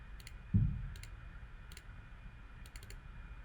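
Computer mouse clicking during desktop publishing work, a handful of quick light clicks spaced irregularly in a quiet room, with one dull bump near the start.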